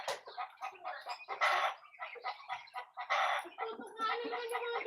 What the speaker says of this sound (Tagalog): Nagtutukaan na naman yung mga bibi. Nagtutukaan na naman sila, dugo-dugoan na naman.